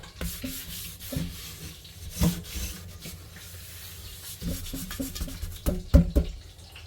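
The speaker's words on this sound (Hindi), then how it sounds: "थोड़ा सा इसको मैंने इस तार से घिसा है" A stained surface being scrubbed with wire during a cleaning product demonstration gives close, irregular rasping rub strokes, some louder scraping bursts among quieter stretches.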